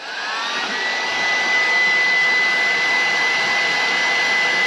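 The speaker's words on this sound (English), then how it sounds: "I thought we'd get on and do another little job with my handy hairdryer" A hairdryer blows with a steady high whine and rushing air, continuous and close, used inside a self-build campervan shower.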